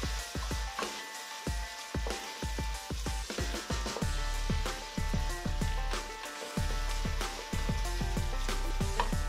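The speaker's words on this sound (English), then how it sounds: "When the butter has melted, saute 3 coarsely chopped onions." Three coarsely chopped onions sauté in melted butter and olive oil in a pan, giving a steady sizzle broken by frequent sharp clicks and taps of stirring throughout, with no talking.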